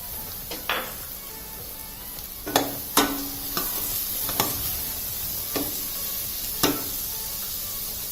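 Capsicum and cauliflower for Mumbai-style pav bhaji stirred in a hot pan: constant sizzle with several sharp spatula scrapes and knocks against the metal at irregular intervals, close and without speech.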